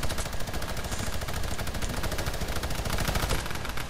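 Light machine gun fire in Fortnite, a dense, continuous loud stream of rapid automatic shots sustained without pause throughout.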